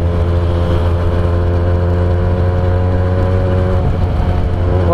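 A Benelli TNT 249 S motorcycle engine held high in the revs, around 9,500 rpm in fourth gear at roughly 102 km/h, giving a loud, steady, buzzing drone throughout.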